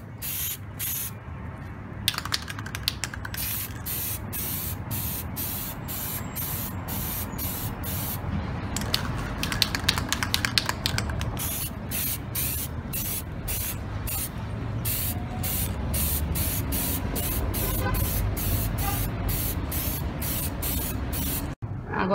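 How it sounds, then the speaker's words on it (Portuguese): Spray paint sprayed onto a sanded wooden fruit crate being turned into a vase: long, loud hissing bursts from the can, broken by short pauses and rapid repeated sputtering puffs. "Agora já tá lixado e a gente começou a pintar com spray."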